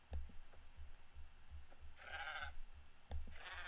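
A Minecraft llama bleats twice, each time in a short, wavering, sheep-like call, over a steady low rumble and scattered soft clicks.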